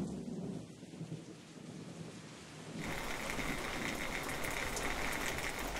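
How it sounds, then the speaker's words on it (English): A thunderstorm in the Chernobyl exclusion zone: low rumbling thunder gives way to a loud, dense roar of heavy rain beating steadily on surfaces, continuous and close. "thunder and lightning drown out the relentless beating rain."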